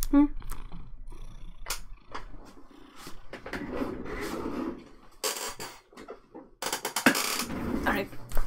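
A pet cat purrs up close during a painting livestream, a low rumbling purr that swells and fades in bursts, with scattered rustling and handling noises around it and some talking mixed in.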